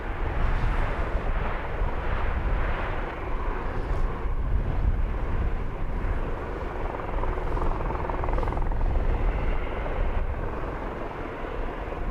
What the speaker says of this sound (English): You can hear rotor blades.